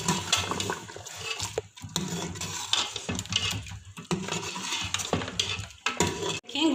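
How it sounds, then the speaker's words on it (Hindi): Mutton korma fries and is stirred in a pot, with continuous sizzling and wet scraping and clinking of a spoon against metal, busy and close with brief gaps. "अब हम इसको अच्छे से भून लेंगे।"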